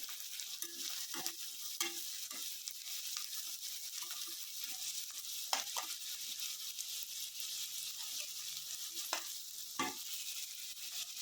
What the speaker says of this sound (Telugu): ఒక 5 to 10 minutes మీరు వీటిని ఫ్రై చేసుకోండి.